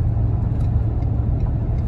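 Ford F350 pickup with the Godzilla 7.3 engine and 3.73 gears cruising on an interstate highway, a steady, loud low drone of engine and road rumble with no break or change.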